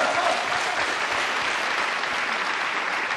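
A studio audience at a televised job-hunting talk show breaks into applause, a dense, loud, steady clapping that holds at full strength throughout.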